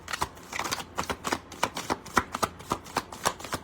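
Tarot cards are shuffled in quick, crisp riffling bursts, close and fairly quiet, with short pauses between the flutters.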